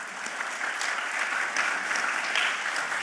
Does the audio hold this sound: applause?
yes